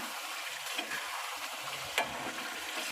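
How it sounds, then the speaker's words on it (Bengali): A marinated mixture of salt, turmeric, chili powder and yogurt sautés in oil in a pan, giving a dense, steady sizzle with occasional soft scrapes and clinks as it is stirred. No voices. "এবার আমি সমানে নেড়ে নেড়ে এটাকে কষিয়ে নেব"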